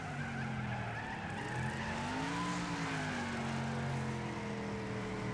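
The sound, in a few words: racing cars in a video game race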